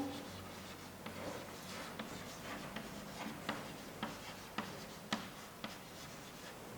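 Hand writing during a chemistry lesson, with a steady scratching stroke broken by sharp, evenly spaced taps and clicks as each word is set down, close and fairly quiet.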